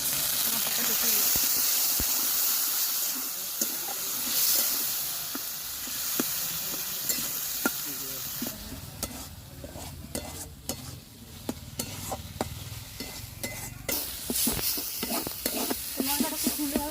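Spice paste of turmeric, chili powder and salt with a little water stir-fried in a village kitchen pan, a steady sizzle and hiss with repeated scraping strokes of the spoon, close and continuous, with a voice talking over it.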